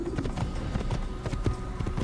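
Horse hooves clip-clopping in Assassin's Creed, a steady trotting rhythm of hoofbeats over a continuous game background, moderately loud and close, with no talk.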